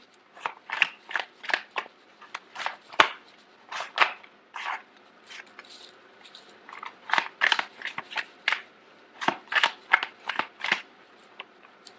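Tarot cards shuffled by hand, a long series of quick crisp riffling bursts in irregular rhythm, close and clear with quiet gaps between, no talking.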